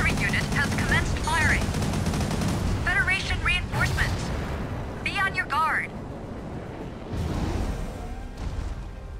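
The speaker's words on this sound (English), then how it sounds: "The artillery unit has commenced firing." Artillery and gunfire in Mobile Suit Gundam: Crossfire, with dense rapid bursts of shooting, booming impacts and whistling shells, loud and continuous, with a voice talking over parts of it.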